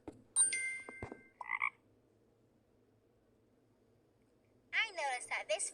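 An adult frog croaks in the Elinor Wonders Why pond life game, a short raspy burst of croaks near the end, after brief chiming game sounds at the start and a quiet stretch.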